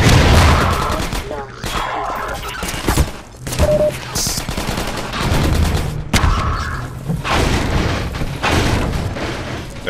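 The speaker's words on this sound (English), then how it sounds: "I'll just fucking rocket them" A rocket launcher fires at enemies in Half-Life 2: Episode One amid a dense firefight, with loud, close blasts and booms layered over rapid gunfire that drops out briefly before resuming.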